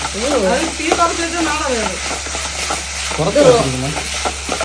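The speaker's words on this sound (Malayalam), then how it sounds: "ഈ സവാളക്ക് വേവാനുള്ള സമയം നിങ്ങൾ കൊടുക്കണം." Onions sautéing in a pan give a steady, close sizzling hiss that runs under a person talking for the whole stretch, with occasional stirring scrapes.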